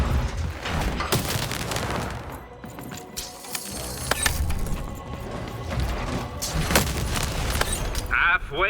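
A cannon fires in the video game Lost in Random, its booming blasts landing amid a dense, busy mix of game sounds and effects that runs the whole time.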